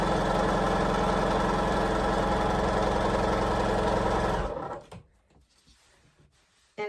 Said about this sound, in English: Let's sew this half square triangle.